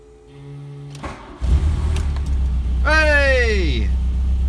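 A VW Golf Mk1 engine is started after a camshaft seal repair. The starter whirs briefly before the engine catches and settles into a steady, low, close idle.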